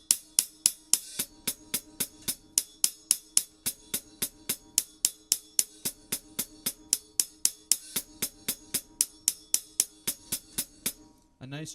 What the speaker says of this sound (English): A nice chick sound.